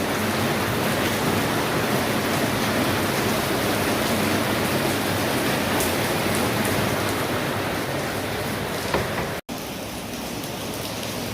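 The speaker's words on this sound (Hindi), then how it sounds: "अब इतनी तेज़ बारिश, आवाज़ तो यहाँ तक आ रही है" Sudden heavy rain pours down outside a village home kitchen, a dense, steady roar of drops striking surfaces that holds unbroken throughout, loud and close, with no voices.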